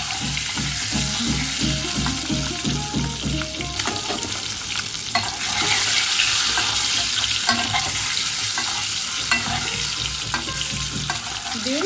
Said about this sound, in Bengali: তেলটা যেন ধোঁয়া ওঠা গরম হয়, তা না হলে কিন্তু ডিম ভাজতে গিয়ে জড়িয়ে যেতে পারে কড়াইতে।